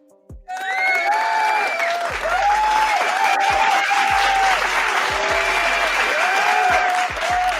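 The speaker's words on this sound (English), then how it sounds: "Let me actually give you a clap" Sustained clapping and applause rise suddenly after a brief pause and hold steady and loud throughout, dense hand claps with some crowd noise and light cheering underneath.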